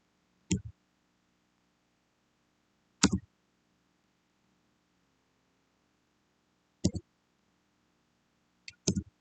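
Typing a regression model on a computer keyboard: a few isolated, crisp key clicks spaced seconds apart over near silence, the last two coming close together.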